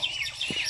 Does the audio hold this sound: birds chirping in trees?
yes